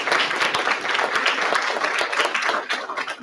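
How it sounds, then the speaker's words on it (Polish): An audience at the sixth congress "Wybieramy Przyszłość" applauds, dense continuous clapping from many hands close by, steady throughout. "Brawa, brawa, brawa."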